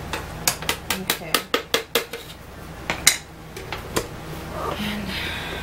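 A spoon stirring and scraping blended homemade baby food by hand in a blender jar: a quick run of about ten sharp clinks against the jar, then a few scattered knocks and softer scraping.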